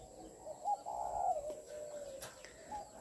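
A young tame spotted dove coos softly a few times, faint and close, with a quiet background.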